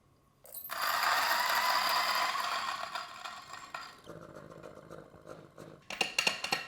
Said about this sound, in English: Have like 10 beans just to purge the grinder and reset the grind setting.